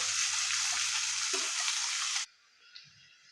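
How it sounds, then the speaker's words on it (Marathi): Onions fry in ghee for pea pulao, a loud dense close sizzle with a few stirring scrapes that cuts off abruptly, leaving a quiet faint hiss. "कांद्याला चांगला गोल्डन रंग येईपर्यंत आपल्याला फ्राय करून घ्यायचा"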